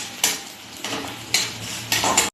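Five-spice seeds, a bay leaf and fried onion stirred in a pan, giving four evenly spaced scraping clinks of a utensil against metal over a faint sizzle, with no talking.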